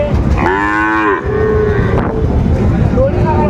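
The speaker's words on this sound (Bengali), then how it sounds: "শাহিওয়ালার বাচ্চা" A Sahiwal calf moos loudly and close by at a cattle market in Dinajpur, one drawn-out bawl followed by a shorter second call, over outdoor background noise.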